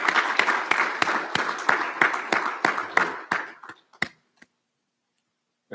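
A recognition ceremony audience claps in a brisk, fairly loud burst that thins to scattered claps and dies out after about four seconds, leaving near silence.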